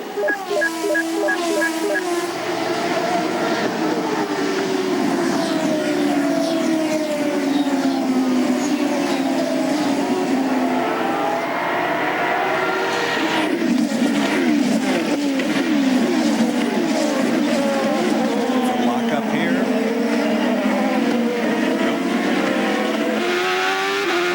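Champ Car race cars roar away at the green-flag start of the 2003 Grand Prix of Mid-Ohio, a loud, continuous wall of engine noise with rising pitch as they accelerate, while a commentator talks over it.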